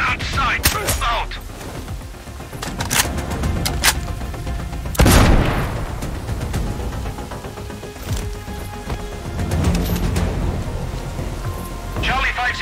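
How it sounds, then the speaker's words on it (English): Explosion in the Sniper Ghost Warrior Contracts video game, a sharp loud boom around the middle followed by rumbling, amid scattered bangs and gunfire-like cracks over a continuous noisy backdrop with radio-style voices. "We had an explosion at R20!"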